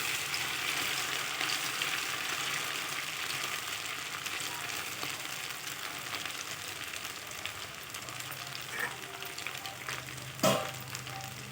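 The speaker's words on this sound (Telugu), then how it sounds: "ఇప్పుడు వచ్చేసి అన్నంతో మనం పకోడీ ప్రిపేర్ చేసుకుందాము ఇలా ఆయిల్లో వేసేసుకోవాలి" Rice pakodi fry in hot oil with a steady, even sizzle and crackle that runs throughout. A brief clatter comes near the end.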